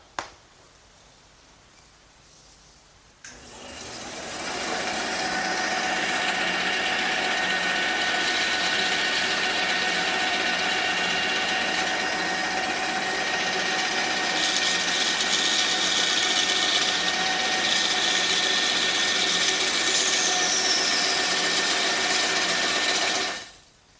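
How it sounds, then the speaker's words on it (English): A bandsaw cutting oak runs steadily, a dense whining mechanical roar that starts abruptly after a few quiet seconds and holds for about twenty seconds before stopping. "the first thing I'm going to do is cut these pieces on the bandsaw."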